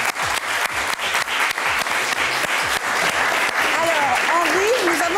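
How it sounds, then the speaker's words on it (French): A talent-show studio audience claps loudly for candidate Henri, dense applause filling the room over a rhythmic music bed, with a voice gliding in near the end. "On l'applaudit très très fort."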